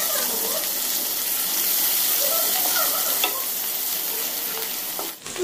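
Garlic fries in butter with steady sizzling, faint stirring clatter, close and fairly loud, ending in a brief scrape.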